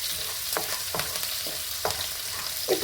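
Curry leaves and green chillies fry in hot oil in a pan, a steady close sizzle broken by a few sharp crackles and stirring clinks, with no talk.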